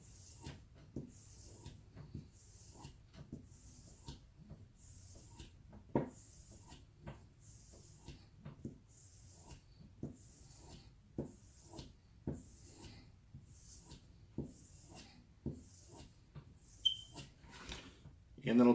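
A Scandinavian-grind knife being honed by dragging the blade backward: soft, faint, evenly spaced rasping strokes repeat roughly every second, close up, with quiet speech in between.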